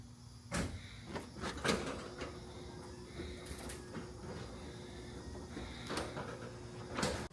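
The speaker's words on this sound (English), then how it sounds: "Hey Siri, open the garage door." A garage door driven by a Meross smart opener rumbles and rattles as it opens, with a low mechanical hum and several sharp clanks spaced through the motion, moderately faint and with no voices.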